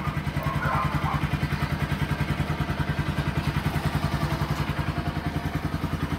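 A repaired NS-200 motorcycle engine idles steadily up close, its single-cylinder beat thumping in a fast, even rhythm with a light mechanical clatter throughout.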